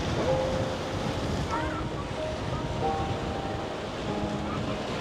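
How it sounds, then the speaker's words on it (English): Steady wind blustering outdoors at the port of Arrecife, Lanzarote, a broad rushing noise with faint background tones, continuous throughout. "It's a bit windy today"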